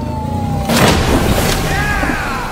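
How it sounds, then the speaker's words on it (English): A car crashing off road into a tree in a comedy puppet episode lands as a sudden loud boom that cuts into the background hum, then fades into a lingering rumble with faint tonal ringing. "he just crashed into a tree"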